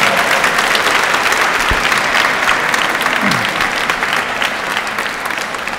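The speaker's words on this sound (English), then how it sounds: "Give yourselves a round of applause" Audience at a Massachusetts human service Providers Council rally applauds steadily, dense sustained clapping from a crowd filling the whole stretch at even loudness.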